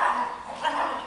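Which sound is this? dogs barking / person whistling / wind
dogs barking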